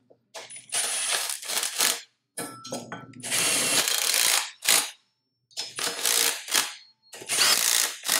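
Close, loud bursts from a power tool, like an impact or ratchet driver, snug down bolts on a VR6 engine block. Several separate rattling pulses are broken by brief silences, with no talk.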